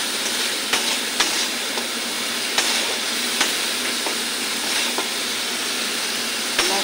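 Spice paste with Kashmiri chilli fries in oil for a boal fish curry, giving a steady close hiss of sizzling with small pops and clicks scattered through, alone without talk.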